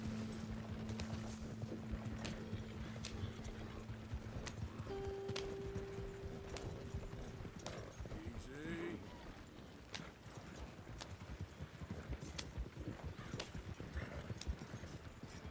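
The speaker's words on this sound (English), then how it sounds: "My horse is getting left behind." Horse hooves clip-clop in steady, even rhythm in the Red Dead Redemption 2 video game, fairly quiet and continuous with a faint hum and a brief whinny midway.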